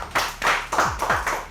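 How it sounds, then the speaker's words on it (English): A small group claps on cue, delivered as five short bursts of applause at a steady rhythm, close and fairly loud, with no talking. "Give me some claps."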